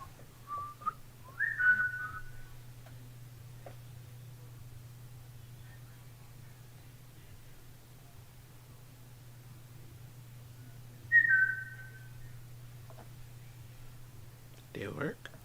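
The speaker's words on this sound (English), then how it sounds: "I'm gonna whistle. Maybe you can whistle back." A person whistles two brief rising-and-falling notes, spaced well apart, over a steady low electrical hum in an otherwise quiet room.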